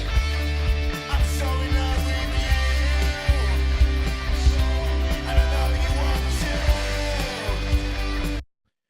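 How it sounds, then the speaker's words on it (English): A full mixed but unmastered song plays continuously with steady drums, bass and layered instruments, loud and dense, ending abruptly. "I have now got a song that has not been mastered."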